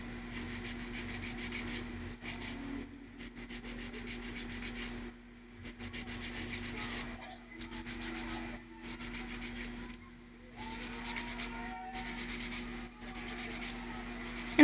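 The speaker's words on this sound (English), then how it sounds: "this is what we mean by shaping and buffing, because you can just lightly go in" A nail file shapes and buffs dip powder nails in quick, light back-and-forth rasping strokes, heard up close in short bursts with brief pauses between them.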